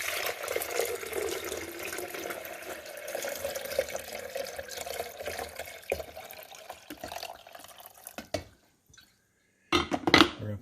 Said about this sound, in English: So we're going to put fresh water back here.